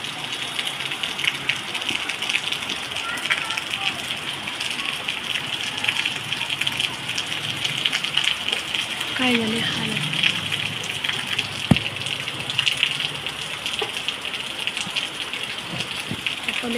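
Rainwater pours off a house terrace in a steady, close gush, splashing continuously for the whole stretch, with a brief spoken phrase partway through.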